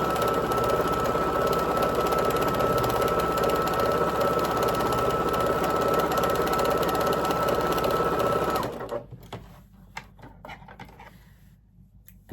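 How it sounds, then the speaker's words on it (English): A sewing machine runs a quarter-inch quilt seam in a fast, steady whir for several seconds, then stops abruptly, leaving a few faint clicks and handling sounds. "I am sewing with a 1/4 inch"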